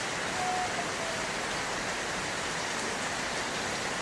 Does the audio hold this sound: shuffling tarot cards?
no